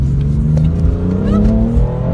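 A BMW M3 accelerates along a back road, its engine droning loud and close from inside the cabin, pitch rising steadily as it gains speed.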